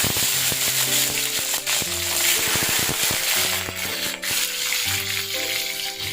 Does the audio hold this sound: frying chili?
yes